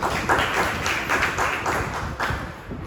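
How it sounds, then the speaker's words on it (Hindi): Applause from a church congregation during an evangelist's sermon on sowing seeds, a dense, steady patter of many hands clapping at close-to-mid distance, with no voices over it. "यहाँ पे तालियां बजनी चाहिए।"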